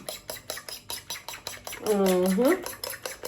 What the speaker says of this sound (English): So, eggs, all beat it up.